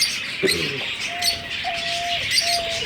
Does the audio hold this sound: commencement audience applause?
no